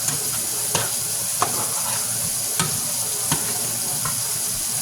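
Food sizzles fiercely in a very hot pan, a dense continuous crackling hiss close by, broken by a few sharp utensil taps against the pan.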